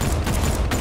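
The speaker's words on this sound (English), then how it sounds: "I'll take out my gun and shoot that thing" Gunfire in Batman: Arkham Knight, a dense, steady rattle of shots lasting under a second, loud and close with no talking over it.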